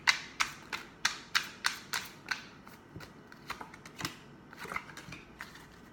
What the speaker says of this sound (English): Last shuffle one more time.